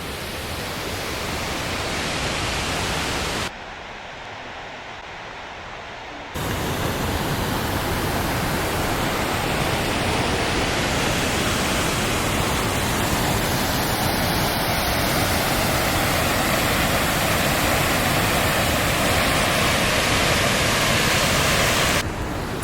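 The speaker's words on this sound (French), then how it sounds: "on vient d'arriver sur une putain de cascade. Là c'est magnifique, tout est vert, il y a de l'eau partout" A large waterfall in lush green Icelandic terrain, heard as a dense, constant roaring rush of falling water close by, broken only by a short dip in level early on.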